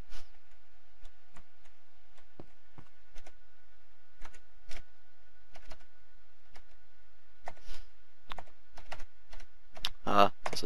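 Typing on a computer keyboard, with scattered, irregular key clicks close by and a quicker cluster of taps toward the end, sounding sparse against near silence.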